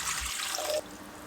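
Tap water pours from a kitchen faucet into a container while lavash dough is being prepared. The stream is a brief splashing rush heard close by, and it thins out toward the end.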